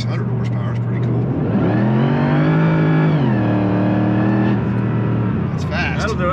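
A 600-horsepower classic car engine with a 331 in it revs hard, a loud sustained roar that climbs and falls in pitch, close by, with people talking over it.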